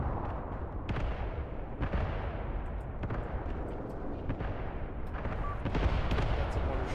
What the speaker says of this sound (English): That's a mortar shell that dropped over there.